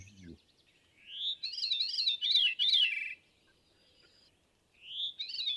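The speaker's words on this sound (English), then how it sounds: "Like this is the song of the veery." A veery thrush sings alone in clear, fluting phrases that spiral downward, two song bursts separated by a pause, fairly close against near silence.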